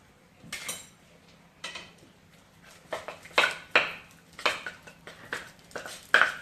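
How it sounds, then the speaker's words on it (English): Marshmallow puff and cream cheese being mixed in a bowl for a chicken breast sandwich recipe, heard as a string of close scraping and clinking utensil strokes against the bowl in irregular bursts, with no talking. "So now we're going to mix it up."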